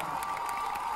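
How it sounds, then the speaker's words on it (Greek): An audience cheers and applauds at a live show, a brief burst of crowd noise with shouts and claps, fairly distant and continuous throughout. "Ένα χειροκρότημα εις αυτούς."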